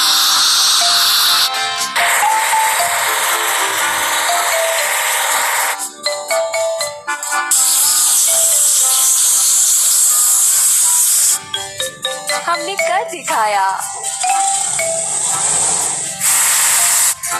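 A pressure washer cleaning a sprayer truck in a farming video game: loud, sustained hissing spray bursts start and stop repeatedly, with brief gaps and tonal game sounds between them.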